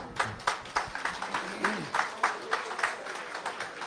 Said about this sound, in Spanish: la recibimos con un fuerte aplauso a ella